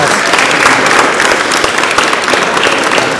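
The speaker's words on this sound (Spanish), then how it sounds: "nos pedimos un fuerte aplauso, por favor." An audience claps in loud, dense applause that fills the whole stretch, many hands at once close by, with no talk over it.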